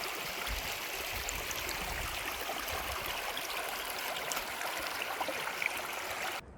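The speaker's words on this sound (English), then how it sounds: "there's a stream of red water mixing with gray" Steady rushing of a stream of running water in a village, an even broadband wash with no voices, continuing unchanged until it cuts off.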